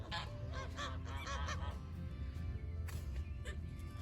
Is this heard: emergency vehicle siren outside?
no